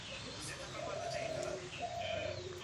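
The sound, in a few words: Madras pigeons cooing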